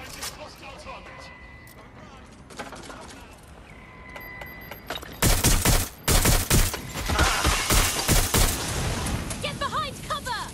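Gunfire in the video game Watch Dogs Legion, starting with sparse scattered shots and electronic beeps, then bursts of loud, rapid automatic fire and fusillades at close range, with faint game voices in the mix.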